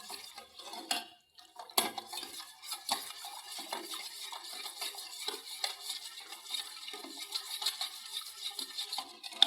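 A spoon stirring milk in a pan on the stove for homemade mango ice cream, giving close scraping and clinking taps of metal on the pan in an uneven rhythm, with no talk.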